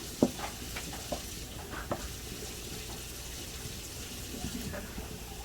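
Onions sizzle softly as they cook down in a pan, with a few light clicks of stirring and some faint talk nearby.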